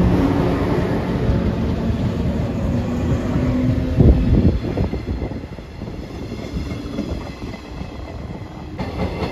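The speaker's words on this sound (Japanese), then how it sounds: "倉敷駅12時49分発普通列車山陽本線岡山駅113系" A JR West 113 series local electric train on the Sanyo Line rumbles through Kurashiki Station, loud and near, with steady wheel and track noise and some wind buffeting, no voices.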